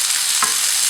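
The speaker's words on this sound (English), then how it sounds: "a drained can of butter beans goes in. Got a nice sizzle." A drained can of butter beans sizzles and crackles in a hot pan, a dense, steady frying hiss close up with a brief stirring scrape partway through.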